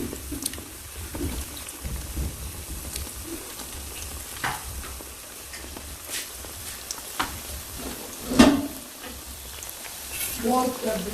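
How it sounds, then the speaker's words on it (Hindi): Round atta (whole wheat flour) biscuits fry in a pan with a gentle, steady sizzle. Occasional stirring knocks and scrapes sound through it, with a sharper clatter near the end. "फ्राई करेंगे।"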